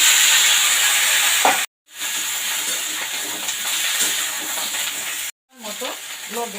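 Vegetables dropped into hot oil with dried chilli tempering, a steady loud hiss and sizzle close up, briefly cut twice, with faint stirring beneath.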